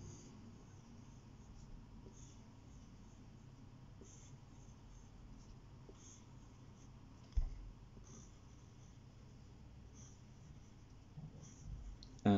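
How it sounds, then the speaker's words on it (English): A drawing tool scratches faintly across paper as strips and swirls are drawn, making soft, steady strokes with a few louder bumps, close by in a quiet room. "start drawing strips like this, and then doing some swirls in them."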